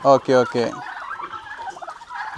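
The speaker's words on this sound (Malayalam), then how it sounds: "ഇത്ര അധികം ടർക്കി കോഴികൾ ഇതിൽ അവൈലബിൾ കാണാൻ പറ്റൂട്ടോ നമുക്ക്" Turkeys on a mixed pet farm let out three loud, rapid gobbles close by, then quieter clucking and bird calls continue in the background.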